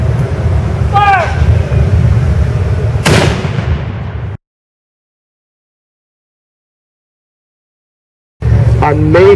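Ceremonial cannon salute fired in Litchfield on the Fourth of July: a single sharp, loud blast under a commanding shout amid outdoor crowd noise, followed by silence and then voices again.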